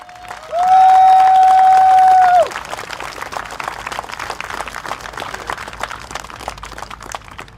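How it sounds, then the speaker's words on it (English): A crowd claps and cheers at a Singapore Democratic Party election rally at Choa Chu Kang Stadium, with applause spreading across the stands. A loud sustained tone, likely microphone feedback, rings over the opening seconds. "give another rousing round of applause for Suraya Akbar"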